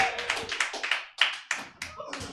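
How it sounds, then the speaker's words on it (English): An audience at a stand-up comedy show claps for a comedian coming onstage, a loose burst of hand claps that thins into separate, irregular claps and taps near the microphone. "Please give a round of applause to Nate Shaw."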